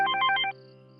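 A short electronic phone ring trills for about half a second during an outgoing call, then stops, leaving a faint steady hum behind.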